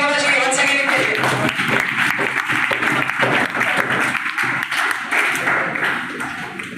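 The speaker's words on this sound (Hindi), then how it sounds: "तो हम चाहते हैं कि जोरदार ताली होना चाहिए" A crowd at an event honouring JAC toppers applauds loudly and continuously for several seconds, a dense wash of many hands clapping at once.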